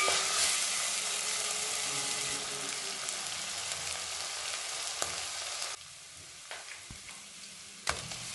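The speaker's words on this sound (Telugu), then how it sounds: "ఆనియన్స్ గోల్డెన్ బ్రౌన్ కలర్ వచ్చే వరకు వేపాలి" Sliced onions and green chillies frying in oil in a pan, a loud, steady close sizzle that drops noticeably partway through, with a few scrapes and clicks from stirring.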